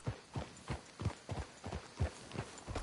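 Horses walking in Red Dead Redemption 2, hooves clip-clopping in a steady, even rhythm of about three steps per second, close and fairly soft with no talk over them.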